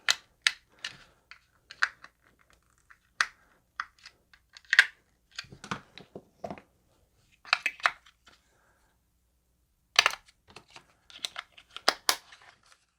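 Small plastic drone case being closed up by hand after an onboard audio mod: scattered sharp clicks, snaps and light rustles at close range, quiet between bursts, with no talking.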